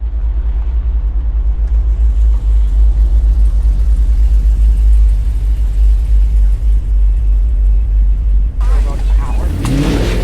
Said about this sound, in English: Brian Boulder taking his bye run in that 392 Henry Jeep, making a nice stately cruise